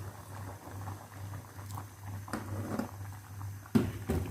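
Aloo bukhara chutney with jaggery syrup bubbles in a pot at a low, steady simmer, with soft popping and a few louder clicks near the end, faint and with no one talking.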